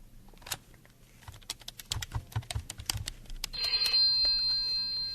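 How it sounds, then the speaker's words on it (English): Rapid keyboard clacking fills the first few seconds, then a bright electronic telephone ring takes over, loud and steady, with no voices. "Rodney, the phone, please. Right away, Mr. Wells. Here's the phone."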